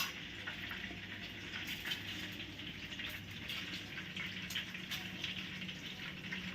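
Fenugreek seeds, mustard seeds and chillies crackling in hot oil for a small amla pickle, a soft continuous sizzle with faint pops, fairly quiet and without talk.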